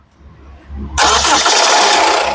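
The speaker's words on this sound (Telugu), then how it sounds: "మళ్ళీ ఒకసారి ఇంజన్ స్టార్ట్ చేసి చూపిస్తాను" A 2015/16 Honda City S manual car engine cranks briefly and catches, then settles into a loud, steady idle close by after a quiet start.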